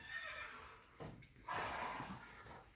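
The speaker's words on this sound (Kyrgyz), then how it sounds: "Кыргыз жылкы экен жаныбар." A young Kyrgyz-breed horse neighs nearby, a faint wavering whinny broken by a brief pause, heard alone without talk.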